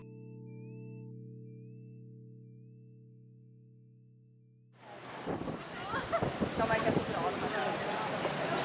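Strong wind buffets the microphone on the Malta coast, a loud rough roar with heavy gusts that starts suddenly partway through after a sustained musical tone.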